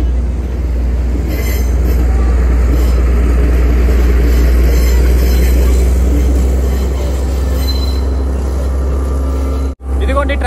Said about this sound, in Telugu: ఇదిగోండి ట్రైన్ వెళ్తుంది.